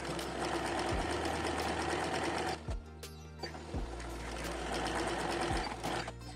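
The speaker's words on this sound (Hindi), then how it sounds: "तो चलिए अब हम इसकी भी सिलाई लगा लेते हैं।" Sewing machine stitching layered fabric plates (pleats), running steadily and loudly up close with brief pauses and low thumps between bursts of stitching.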